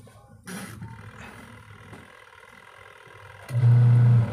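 Single tub washing machine motor starting up after the wash timer is turned, a low humming drone that swells louder near the end, with clicks and clatter along the way.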